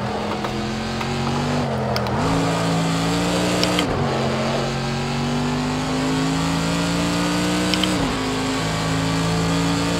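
Mercedes AMG GT3 race car in the Project Cars 2 racing game, its side-exit exhaust engine droning loud and steady, pitch climbing through gears with brief drops at shifts, no talk over it.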